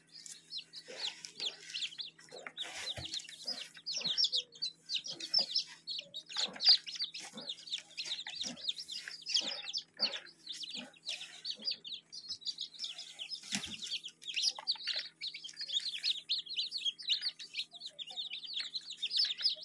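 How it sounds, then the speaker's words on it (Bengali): Newly hatched chickens peep in a brooder, many chicks cheeping at once. Their thin, high chirps run in a continuous, busy chatter at a fairly soft, close level throughout. "এই যে দেখেন মুরগি বাচ্চাগুলা, কত সুন্দর মুরগি বাচ্চাগুলো"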